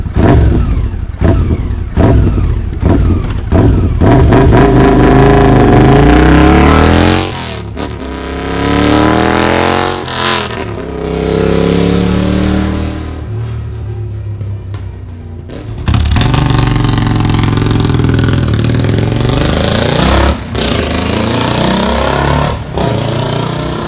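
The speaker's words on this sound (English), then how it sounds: "The exhaust sound on each one of these motorcycles is obviously different." A Royal Enfield motorcycle fitted with a P-Shooter exhaust revs hard and loud, its engine rising and falling through several throttle blips, then settling into a sustained high-revving roar close by.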